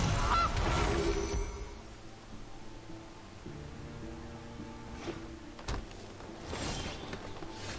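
Goose honks from a Gilded Goose card in a Magic-style card video game, a loud burst of honking at the start followed by quieter mechanical clicks and slides.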